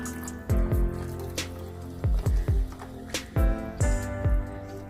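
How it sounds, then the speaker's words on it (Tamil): Half a cup of water poured into a simmering chicken gravy in a pan, giving a series of close splashing, dripping liquid sounds in uneven bursts with a faint pot hum beneath. "இப்போ இது கூட நான் ஒரு 1/2 கப்பு வாட்டர் ஆட் பண்ணுறேன்."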